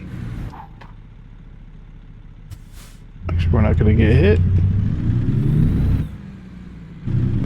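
An International LoneStar truck in American Truck Simulator pulls away, its engine quietly idling then swelling into a louder, rising drive for a few seconds before easing off, with a hiss of air and someone talking over it.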